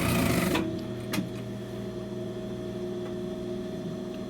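Sewing machine stitching a folded hem while a tailor shortens a garment, a short loud burst of stitching at the start followed by a steady low mechanical hum that runs on quietly.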